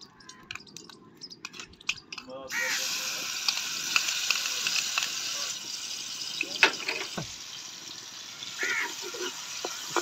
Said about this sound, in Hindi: घी गर्म हो चुका है, इसके अंदर अब डालेंगे अदरक लहसुन का पेस्ट।